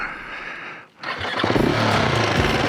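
A motorcycle engine briefly dips almost to silence, then roars back up to a loud, steady, close running rumble that holds to the end.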